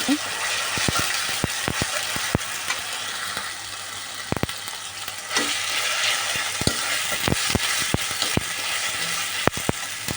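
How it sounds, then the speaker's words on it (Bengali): Ginger and garlic fry in hot oil in a kadai, giving a steady loud sizzle punctuated by sharp spatula clicks and scrapes at irregular intervals. "এখন আমি আদা রসুন এই তেলটার মধ্যে দিয়ে ভালো করে আদা রসুনটাকে ভেজে নেব"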